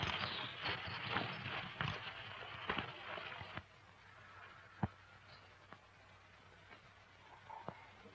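Horse hooves clip-clop quickly on a hard surface in a Western film, fading after a few seconds to sparse, separate hoof knocks.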